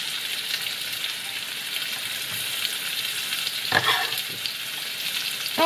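Onion sizzling in a very hot pan while being stirred, a steady broadband fry hiss with a brief scraping burst partway through, close and continuous with no talking, during preparation of marry me chicken.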